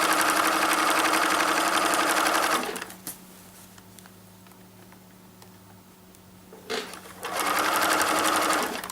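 A sewing machine quilts a newborn mermaid outfit, running in two loud, steady bursts separated by a quieter pause of several seconds.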